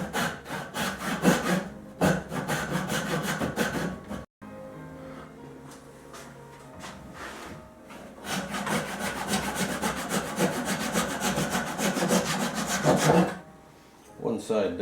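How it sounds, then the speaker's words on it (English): A handsaw cuts wooden tenons with steady rhythmic back-and-forth strokes, close and fairly loud, with a brief pause partway through before the sawing resumes. "So now I'm going to have to hand saw the tenons down that way."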